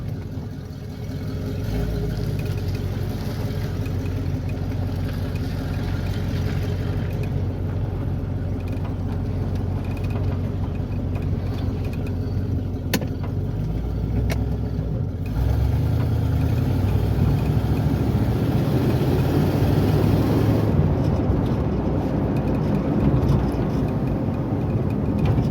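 A Chevrolet Camaro with brake and steering issues drives on the road, its engine a steady, loud mid-pitched drone with road and wind noise throughout, swelling slightly partway through.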